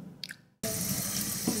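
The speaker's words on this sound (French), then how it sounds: "Il faut laisser encore 20 secondes sous le robinet." Water from a kitchen-style tap starts abruptly and runs steadily, a continuous close rushing splash with no talk over it.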